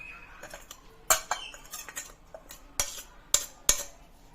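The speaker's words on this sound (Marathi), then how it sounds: "मम्मा मिक्स करून घेतीये. ड्रायफ्रूट पावडर ऍड करायची आहे." Karanji filling being mixed in a pot with dry fruit powder, heard as a metal spoon giving sharp clinks and scrapes against the pot in an uneven rhythm, close but fairly quiet.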